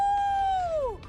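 A person imitates a wolf howl with a single sustained, wavering howl that slides downward and fades at the end, close and fairly loud.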